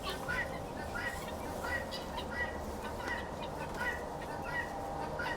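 Guinea fowl give repeated shrill, chattering calls at a steady rhythm over a quiet outdoor backdrop around a bird coop, with a person murmuring faintly nearby.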